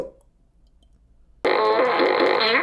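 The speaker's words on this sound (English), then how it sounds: "Enjoy the universal joke that is farting" A loud, close fart bursts in after a second and a half of near silence and rumbles on steadily to the end.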